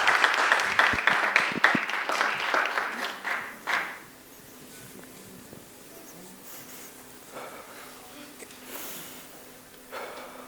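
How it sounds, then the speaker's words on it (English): Audience applause at a TEDx 2024 student event at Stevenson High School, with dense clapping loud for about four seconds, then fading into quiet room noise with a few scattered claps near the end. "please give a round of applause for Casper"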